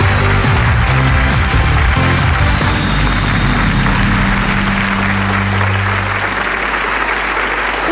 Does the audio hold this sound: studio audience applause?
yes